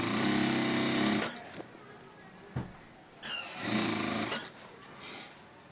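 Sewing machine stitching a shirt seam, one steady whirring run at the start, then a quieter later burst with faint handling sounds between, close but at low volume.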